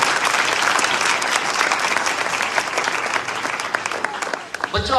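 A church congregation at a live Hindi-language worship service breaks into loud, dense applause that holds steady, then thins and fades toward the end as a voice starts to speak.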